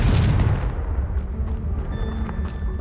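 A Confringo spell explodes in the video game Hogwarts Legacy with a heavy, booming burst up close, its rumble decaying over a couple of seconds into a fading tail.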